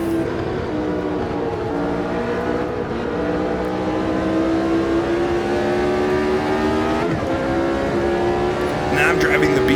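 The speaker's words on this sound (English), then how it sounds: "Now I'm driving the BT24 Brabham." A Brabham BT24 racing car in Automobilista 2, lapping a wet Interlagos, holds a loud, steady engine drone that climbs slowly in pitch, with a voice talking over it.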